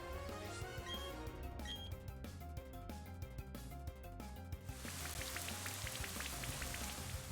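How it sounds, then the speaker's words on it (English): Rain in Pokemon Brilliant Diamond begins partway through, a steady hiss with scattered droplet patter that replaces the earlier in-game music and carries on to the end. "Oh no, it's raining."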